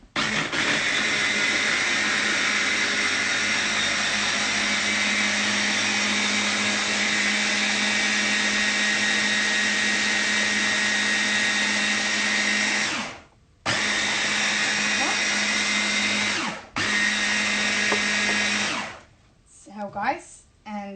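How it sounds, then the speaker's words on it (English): Blender running steadily on a peanut butter mixture, a loud close whine held for long stretches, with two short stops before a final burst and spin-down. "and a little bit more blending"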